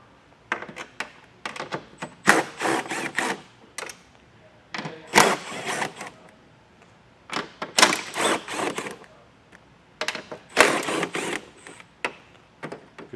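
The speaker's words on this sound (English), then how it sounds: "It's actually going to go in here just like this, and it's going to use these factory nuts. So we'll remove those." Ratcheting wrench clicks and metallic rattles while 10 mm factory nuts come off the front of a vehicle during a base plate install, in several close bursts separated by short pauses.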